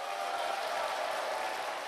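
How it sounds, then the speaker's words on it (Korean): Audience at a success seminar for business owners applauding, a dense, even wash of clapping that holds steadily throughout. "자기 자신을 위해서 한번 커다랗게 박수 한번 크게 부탁드리겠습니다."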